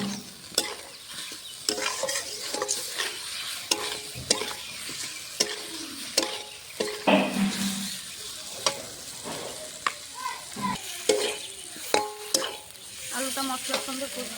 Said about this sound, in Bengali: এখন মশলাটা ভালো করে কষিয়ে নেবো আলুর সঙ্গে।